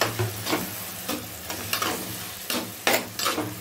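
Tomatoes and curry leaves sautéing in a pan for anchovy curry, a steady sizzle broken by repeated scraping stirs of a spatula, close and fairly quiet.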